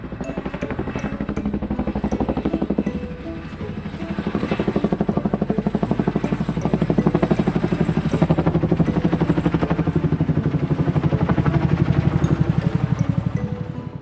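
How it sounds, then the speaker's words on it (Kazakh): A helicopter flies steadily nearby, its rotor beating in a fast, even chop over a continuous engine whine, loud and unbroken throughout with a slight dip early on. "Мынау тік ұшақ."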